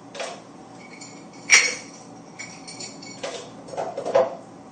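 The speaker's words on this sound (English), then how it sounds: "Next thing I'm going to do is put in the ice." Ice chunks dropped into a Blendtec blender jar over milk, making scattered hard clinks and clatters, with one sharp loud knock and several lighter rattles in irregular bursts.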